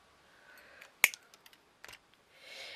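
Scissors cut craft pieces in a few crisp, close snips, one sharp and prominent, followed by quieter clicks and light handling noises in a quiet room.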